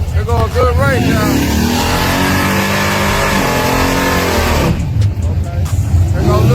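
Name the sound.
race cars accelerating in a street race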